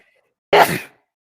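A single loud, close sneeze bursts out alone in a quiet room during a podcast conversation, lasting well under half a second before fading to silence.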